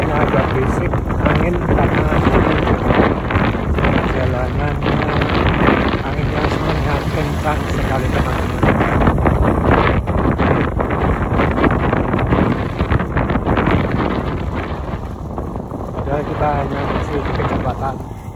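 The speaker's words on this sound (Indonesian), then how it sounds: "suaranya sangat kencang sekali anginnya ya teman-teman." Strong wind buffeting a microphone while riding along a road from Pati to Blora, a loud continuous roar and rumble that persists throughout with no break.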